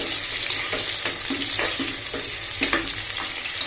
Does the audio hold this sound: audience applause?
no